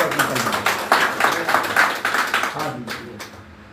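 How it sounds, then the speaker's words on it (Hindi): An audience at a DXN products training session claps in quick rhythmic bursts that gradually thin out and fade, with speech mixed in. "इसके लिए जोरदार तालियां"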